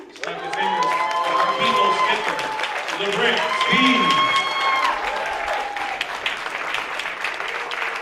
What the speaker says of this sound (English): I want y'all to start making your noise. Clap.